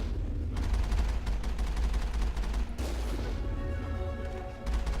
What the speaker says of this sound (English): That was the rocket flying past us.